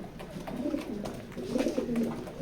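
Racing pigeons cooing in a loft, low soft throaty coos repeating close by and fairly loud, with no talk over them.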